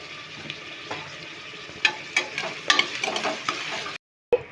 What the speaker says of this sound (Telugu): ఈ ఉల్లిగడ్డని ఫ్రైడ్ ఆనియన్ చేసుకోవాలి